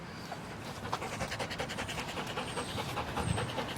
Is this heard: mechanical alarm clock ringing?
no